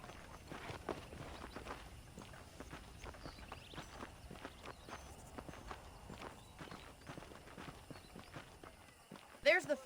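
Saddled horses' hooves clip-clop in a steady walking rhythm on a dirt ranch path in the Red Dead Redemption video game, with a brief sharper sound near the end.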